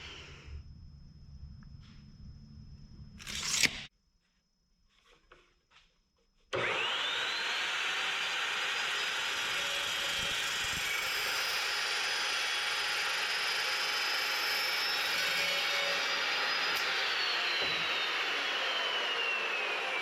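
Metal pieces cut for a 3rd gen 4Runner rear bumper: a few brief scraping noises, a pause, then a loud, continuous grinding cut with a rising whine that holds steady to the end.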